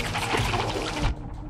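Water in the Hollow Knight video game gives a loud rushing, splashing wash that runs steadily for about a second, then cuts off abruptly to a thinner, quieter hiss.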